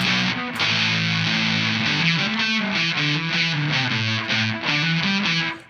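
Heavily fuzzed electric guitar through a fuzz pedal strums a quick sequence of chords, the saturated tone smearing the notes together, loud and upfront with no talking.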